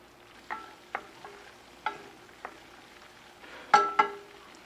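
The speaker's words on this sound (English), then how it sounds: "So I'm going to watch that and stir it and watch it for about a few minutes while it cooks here." A butter white roux cooks in a pan, with a faint steady sizzle under a series of sharp scraping clicks from stirring, irregularly spaced and fairly close.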